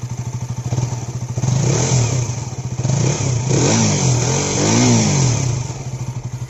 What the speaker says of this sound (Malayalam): നമുക്ക് ഇതിൻ്റെ എൻജിൻ എക്സോസ്റ്റ് സൗണ്ട് ഒന്ന് കേട്ട് നോക്കാം